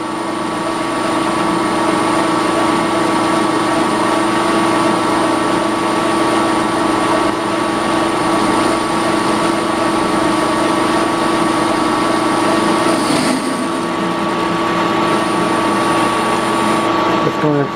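A metal lathe turns 1018 steel with a high-speed steel tool on a light spring cut, giving a steady, loud mechanical hum with a faint high whine throughout and a brief change near the end.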